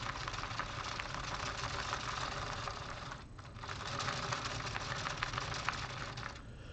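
LEGO Technic bucket wheel excavator crawler treads turning as a gear is hand-cranked, giving a steady, close rapid plastic clicking and rattling that runs continuously with a brief dip midway.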